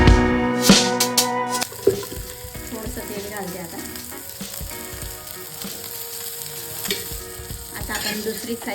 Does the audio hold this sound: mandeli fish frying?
yes